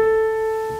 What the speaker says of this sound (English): the melody note, the bass note, the third and the seventh would sound like this.